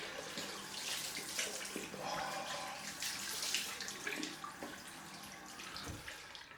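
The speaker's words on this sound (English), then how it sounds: "Let's get the cold water on." Cold water runs steadily from a tap into a sink during a post-shave rinse, a continuous splashing hiss that fills the whole stretch without pause.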